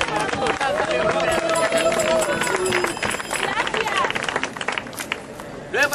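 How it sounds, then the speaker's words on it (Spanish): A crowd claps and cheers at the inauguration of a medieval-style market in Ciudad Real, loud and close, with overlapping voices calling out amid the applause. "¡Un aplauso!"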